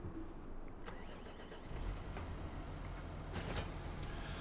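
A vehicle engine starts up in the video game Farming Simulator 25, cranking and then settling into a steady low idle rumble, close and continuous.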